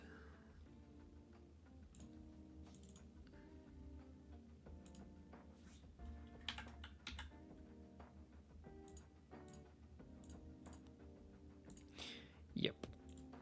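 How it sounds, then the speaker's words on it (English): Computer keyboard typing during game development setup, a quiet scatter of irregular clicks and taps at close range, mixed with faint background hum and a few louder clacks near the end. "Yeah, keyboard."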